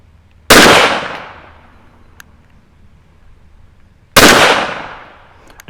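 Walther WMP pistol firing CCI ammunition at an outdoor range: two loud, sharp reports several seconds apart, each with a long echoing decay and quiet between.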